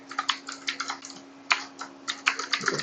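Rapid clusters of keystrokes clatter on a computer keyboard during a coding contest, close and crisp with short pauses between bursts, over a faint steady hum.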